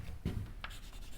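Chalk or marker strokes on a board during a physics lecture, a few short scratchy taps and drags, close and faint, with no speech.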